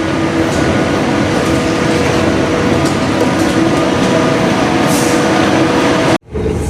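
Airport rail ride out of Kuala Lumpur, a loud steady rumble and roar of the train in motion heard from inside the carriage, continuous and unbroken until a sudden cut near the end, no talk.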